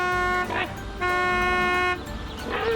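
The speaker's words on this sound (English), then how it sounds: "I hear the truck coming now in the distance" Cartoon truck approaching in the distance with repeated toots of its horn, three tonal honks separated by brief rumbling gaps, moderately loud.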